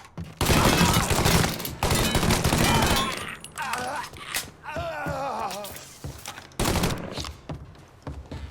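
Gunfire in the Mafia 3 video game, with loud, rapid bursts of automatic fire and shots stacked on each other, broken by short pauses, with voices calling out in between.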